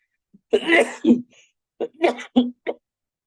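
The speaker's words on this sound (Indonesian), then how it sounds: "Kok jadi batuk ya?" A person nearby coughs and clears their throat several times, in short harsh bursts separated by brief silences.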